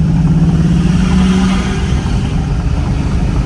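A turbocharged budget work truck's engine roars at full throttle as boost builds. The revving is loud and close, with a whining tone in the first second and a half, then a sustained rumble.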